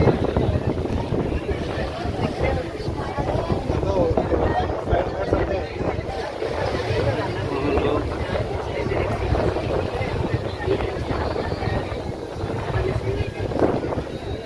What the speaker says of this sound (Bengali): এই যে লঞ্চ আস্তে আস্তে ঘাটের দিকে এগোচ্ছে, বিবেকানন্দ শিলার দিকে।